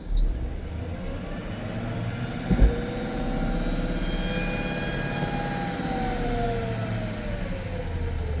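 A 2018 GMC Sierra 2500 Duramax diesel idles steadily up close, and the air compressor clutch engages with a click partway through, after which the engine drone rises with a slowly climbing whine.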